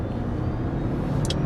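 A 2026 Nissan Rogue Plug-in Hybrid at full throttle gives a steady, dense engine and road drone heard from inside the cabin. It stays fairly loud and even throughout, with a brief higher chirp near the end.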